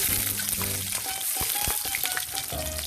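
Garlic sautés in a hot pan with a loud, steady, close-up sizzle and crackle, plus a few faint scrapes of stirring.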